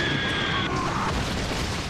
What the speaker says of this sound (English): it smashes into a bridge packed with cars and plunges into the icy river below